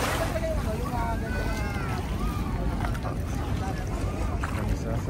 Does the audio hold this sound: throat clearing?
no